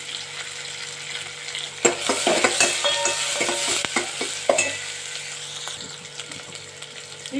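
Onions fry in a pan for a Mangalore cucumber sambar, with a steady close sizzle broken by bursts of stirring scrapes and clatter in the middle, and no talking.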